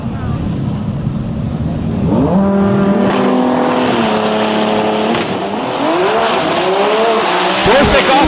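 A 2009 Nissan GT-R and a rival car launch off a drag strip starting line at a DCT World Cup event, engines roaring loud and close as tires squeal, with revs climbing in rising sweeps over several seconds.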